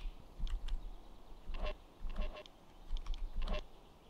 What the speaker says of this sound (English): Maybe it was those damn birds again.